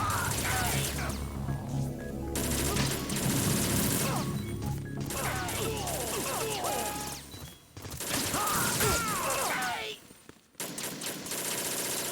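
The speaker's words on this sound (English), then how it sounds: "I appreciate that I now have a good opportunity to use the grenade launcher." Grenade launcher fire in Metal Gear Solid 2, loud bursts of rapid gunfire and crashing impacts in clustered volleys, broken by short quiet gaps and a few sharp blasts, with no talk.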